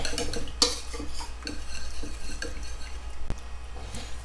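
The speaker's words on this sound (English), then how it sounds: "add a little bit of your flour mixture in there, right, and stir this up real good" Metal utensil scraping and clinking against a bowl while flour mixture is stirred into chicken tender batter, a steady run of close, light taps and scrapes with one sharper clink near the start.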